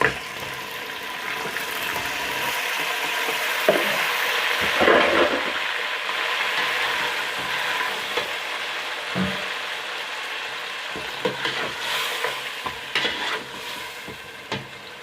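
Beef frying with browned onions in a pot, sizzling with occasional stirring scrapes and clinks, a steady hiss throughout at close range, no talking.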